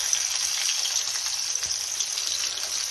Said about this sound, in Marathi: तेल तापलं की यामध्ये टाकून घेऊया कांदा